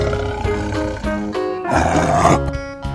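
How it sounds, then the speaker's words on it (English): A tiger roars in a children's phonics alphabet song, giving several loud, close, growling roars in bursts over a brief musical backing. "T for tiger."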